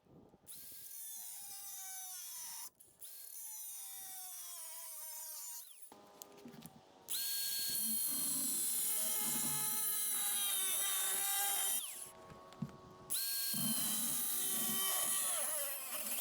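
An angle grinder cuts points onto composite garden bed stakes in loud bursts, each cut a sustained high whine that stops and restarts several times with short pauses between.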